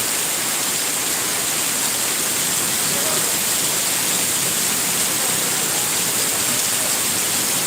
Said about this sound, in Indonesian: sepertinya hujan semakin deras, semakin deras.